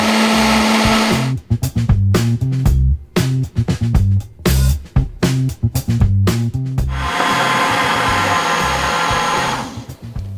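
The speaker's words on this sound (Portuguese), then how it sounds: "Você vai mudando o som do liquidificador" A blender making mayonnaise whirs in short choppy pulses, then runs into a loud, steady, heavy grinding whir close by as the mixture thickens, before cutting off.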